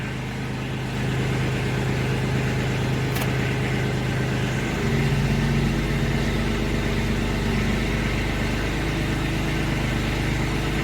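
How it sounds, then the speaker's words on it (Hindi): Tractor engine running at a steady idle, a continuous droning rumble close by that rises slightly in intensity after a few seconds. "क्या शानदार आवाज है भाइयों। धुलाई कर दी ट्रैक्टर की"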